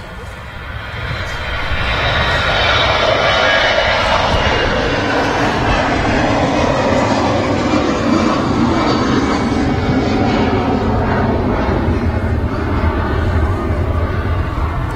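An airliner arriving at Manchester Airport roars loudly overhead, its engine noise swelling quickly in the first two seconds, then holding as a steady, powerful rumble for the rest of the clip.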